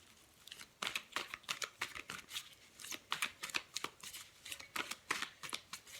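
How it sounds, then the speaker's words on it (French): Tarot cards being shuffled by hand, a rapid run of crisp riffling flicks and soft slaps in an uneven rhythm, close and fairly quiet, with no voices. "je vais prendre un autre jeu"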